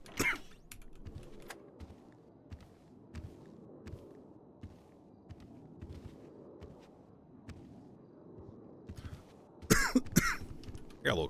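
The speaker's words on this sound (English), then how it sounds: "Got a little cough." A streamer's short cough bursts near the end, following a long stretch of quiet keyboard tapping and faint room noise.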